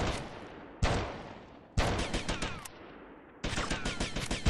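Bursts of gunfire from Grand Theft Auto Vice City Definitive Edition: three loud volleys of rapid shots, each starting sharply and rattling on with dense repeated cracks, separated by brief lulls with a steady game ambience underneath.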